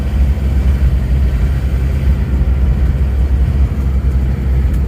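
An Isuzu Panther engine running, heard from inside the car as a steady low rumble that stays loud and even throughout with no speech.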